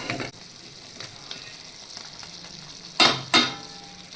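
Chicken frying in a pan gives a steady sizzle, and two loud, close bursts of hissing flare up near the end as tomato is added and stirred in.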